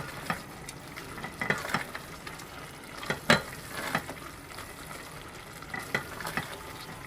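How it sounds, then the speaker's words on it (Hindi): Tomato sandwich filling cooking in a pan over a high flame, a soft continuous sizzle with occasional spoon scrapes and taps against the pan, fairly close. "थोड़ी सी आग मज़ीद तेज़ करके जैसे 2-3 मिनट पकाएंगे, ताकि इसमें ये जो गीलापन है टमाटर का वो ख़त्म हो जाए"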